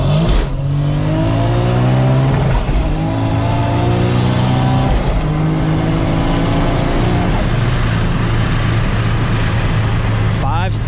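A Toyota Supra with a T56 manual gearbox accelerates hard through a timed pull, its engine note climbing loud and close in rising sweeps broken by quick short-shifts, with a voice talking over it.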